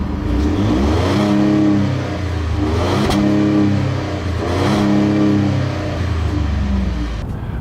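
A 2015 Ford F-150 pickup with a 3.5L V6 EcoBoost engine accelerates while towing a loaded trailer; the loud engine rises in pitch through repeated gear climbs, easing and revving again in a rhythmic pattern, close and alone.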